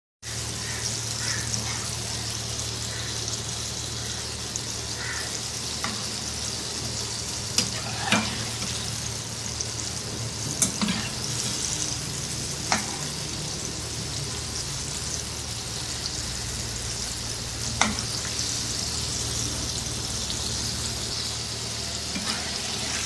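Chicken pieces frying in hot oil give a loud, continuous crackling sizzle, with occasional sharp pops and utensil clinks standing out over the steady bubbling.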